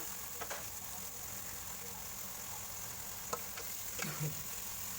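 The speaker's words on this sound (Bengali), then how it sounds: "আদা বাটা দিয়ে আর রসুন বাটা দিয়ে ভালো করে একটু ভেজে নিতে হবে" Ginger and garlic paste fries in oil in a pan for chicken biryani, with a steady soft sizzle and a few faint clinks of stirring.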